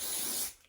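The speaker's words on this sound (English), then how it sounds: "actually gonna spray a little" Holding spray misted onto a frontal bob wig, a single close hissing burst that cuts off and fades after about half a second.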